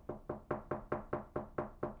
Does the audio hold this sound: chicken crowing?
no